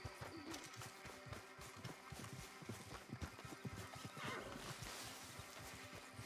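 A horse in Red Dead Redemption 2 whinnies amid busy game sound, with hoof clatter and steady background ambience throughout the short stretch.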